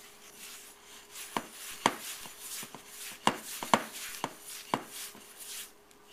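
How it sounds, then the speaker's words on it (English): Sugar skull dough of powdered sugar is worked by hand in a bowl, giving soft rubbing and scraping with a series of irregular light knocks and taps, quiet and close, with no talking. "it takes quite a while to mix up the dough"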